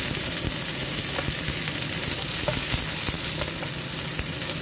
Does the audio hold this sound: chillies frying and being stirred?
yes